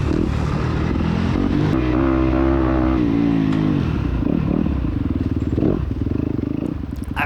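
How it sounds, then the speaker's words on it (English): Two-stroke dirt bike running downhill on a trail, its engine burbling and revving unevenly up close with rattling and clatter throughout. "This bike was super smooth going down these hills."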